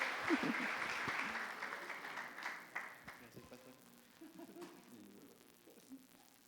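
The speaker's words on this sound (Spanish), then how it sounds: "vamos a darle un fuerte aplauso al Señor" A church congregation claps during a worship service, the applause strong at first and fading over a few seconds as voices take over and speaking continues.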